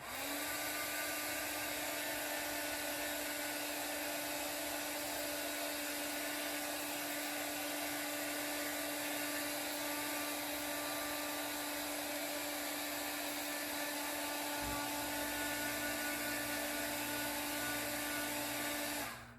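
A steady, loud hair dryer blows continuously with a constant whine; partway through, the low hum shifts slightly as the airflow changes.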